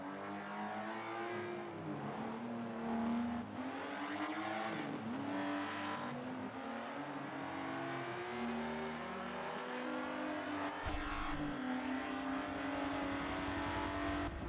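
Race cars in Forza Motorsport 7 roar through a charity championship race, their engines holding a steady, loud whine that climbs and drops through gear changes, with a dense overlapping drone of several cars throughout.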